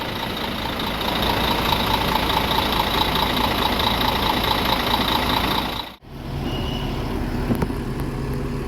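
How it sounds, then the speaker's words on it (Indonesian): Mercedes-Benz 2542 bus engine idling steadily, a continuous close rumble with a brief dip partway through before the drone resumes. "Nah ini satu lagi yang 2542 nih suara mesinnya."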